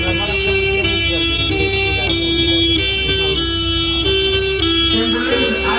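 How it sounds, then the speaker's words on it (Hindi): An ambulance arrives with its siren wailing in a loud, repeating two-tone cycle over road traffic and a low engine rumble, close by and continuous. "एम्बुलेंस आ गई है"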